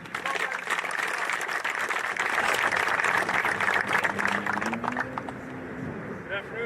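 A sustained round of applause from a crowd of players and attendees at a sports showcase, honoring the coaches, steady and fairly close before thinning out as a voice begins to speak.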